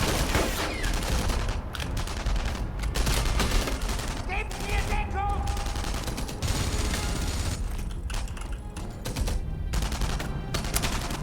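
Sten gun fire in the video game Enemy Front, dense bursts of automatic gunfire crackling through a loud, busy battle mix with rapid repeated shots across the whole stretch.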